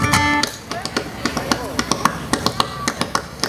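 French-Canadian pas de rythme foot tapping beats out a quick, steady rhythm of crisp taps on the floor, heard close after an opening sustained tone, with other sounds faint underneath.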